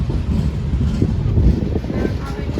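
A passenger train running through the Konkan region toward Vasai, a steady low rumble and rattle heard from inside a carriage, with wind noise over it.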